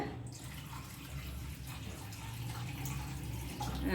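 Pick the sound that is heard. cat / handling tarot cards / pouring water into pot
pouring water into pot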